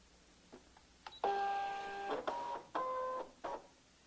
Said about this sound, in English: And then I'm going to go ahead and load it into the machine.